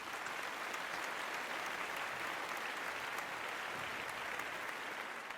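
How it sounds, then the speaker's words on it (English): A civic audience at a city address claps steadily for a former mayor, a dense, even round of applause heard from some distance, constant for the whole stretch without voices. "And let's give Mayor Echols a big round of applause."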